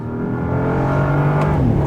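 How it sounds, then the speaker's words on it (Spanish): A 2025 Bentley Continental GT Speed, a 782 hp car without the W12, accelerates hard on a circuit. The engine roar is loud and close and climbs steadily in pitch over a short burst, with no talk. "Acelera muchísimo,"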